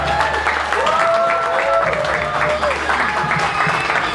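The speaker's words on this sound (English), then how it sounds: "Make some noise for Zoltan." A stand-up comedy crowd claps and cheers loudly and steadily, dense applause with a few whoops rising above it.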